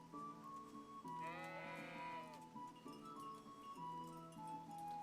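Sheep bleat in a medieval village in Kingdom Come: Deliverance, one long wavering bleat standing out over a steady game soundtrack with tonal music, no voices.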